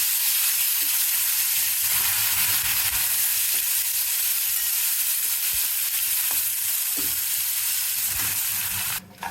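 Asafoetida and curry leaves hit hot oil in a pan, producing a loud, steady, close sizzle and hiss that holds throughout, with faint stirring knocks underneath and no voices.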